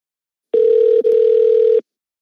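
A telephone line after a prank scam call is hung up, giving a loud, steady single-pitch tone that lasts a little over a second, breaks briefly, then resumes before cutting off into silence.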